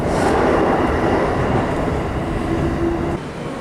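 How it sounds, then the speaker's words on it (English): A JR train near Tachikawa Station rumbles past with a loud, steady roar of wheels on rails and a thin squeal running under it. "Loving how frequent these trains are about 8:30."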